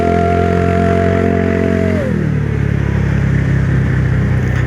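A motorcycle on a joyride runs with a loud, steady engine drone that drops in pitch about halfway through as it eases off, then keeps idling at a lower, even throb close by.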